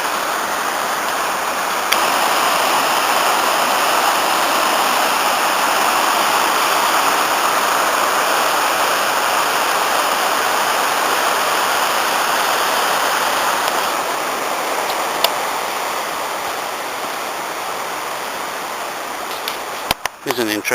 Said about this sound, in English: River Conwy descending down to Betws y Coed.